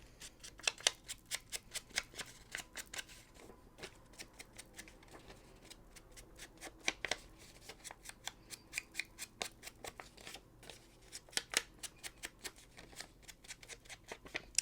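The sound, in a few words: distressing brown paper for a junk journal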